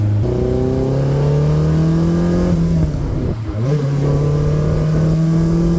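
A Caterham 485 S revs up hard and loud after slowing for a bend, its engine note climbing steadily, dipping briefly, then pulling again with a strong exhaust sound close by. No one speaks.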